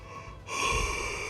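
A tired bricklayer's yawn after a solo day digging deep footings: a short intake followed by a loud, drawn-out breathy exhale, close and alone.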